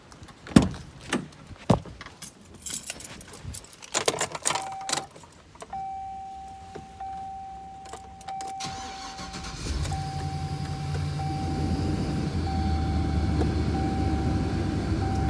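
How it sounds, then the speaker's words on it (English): A Chevy Express van starting and running with its blower motor on: clicks and clunks, an engine turning over, a steady electric whine, then a rising fan rush settling into a constant hum. "See if that blower motor works."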